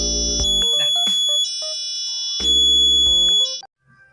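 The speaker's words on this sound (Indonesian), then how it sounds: "buzzer yang saya pakai sepertinya tidak mengalami kerusakan atau kendala" An electronic buzzer on a microcontroller sound-generator project emits loud, piercing alarm-like tones in bursts with short gaps, changing pitch between segments before cutting off near the end.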